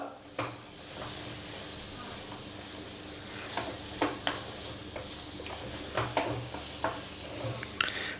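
Semolina for sheera being stirred and roasted in a pan, a steady low sizzle with repeated scraping strokes of the spoon at an uneven rhythm, close and fairly quiet.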